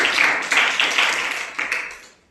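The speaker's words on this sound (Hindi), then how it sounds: "तालियां जोरदार।" An audience claps for a prize winner at a school award function, with several close, loud surges of clapping in uneven bursts that fade out at the end.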